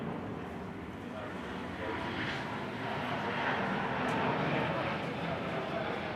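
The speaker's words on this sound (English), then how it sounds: "We have airplanes flying over the head so that nobody can hear anything." Airplanes pass overhead above a temple garden during an anniversary festival, a steady, broad engine roar that swells gradually and fills the whole clip, with no talk over it.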